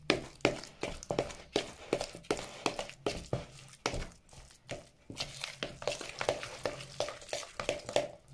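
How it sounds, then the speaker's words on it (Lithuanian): Salad ingredients with grated garlic, including smoked chicken and mushrooms, being stirred together, giving close, rhythmic scraping and squelching strokes about twice a second, with no talk. "Dabar viską labai gerai išmaišom."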